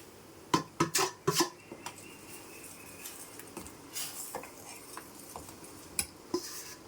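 Ragi flour is stirred into boiling water in a pot, with a quiet bubbling bed under a series of sharp spoon knocks and scrapes against the pot, clustered early and then spaced out, close but faint.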